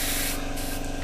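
An airbrush sprays thinned model paint at a low 15 psi, giving a steady, close hiss of air that holds evenly through the whole short moment with no talk.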